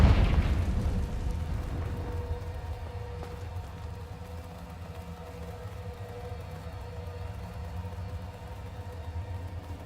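A Confringo blasting spell in Hogwarts Legacy bursts with a loud booming explosion at the start, then fades into a long low rumbling decay and quiet ambient game sound.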